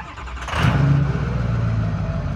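A rebuilt Ford 6.0 Powerstroke diesel truck engine cranks and catches, settling into a loud, steady idle close by with a low throbbing rumble.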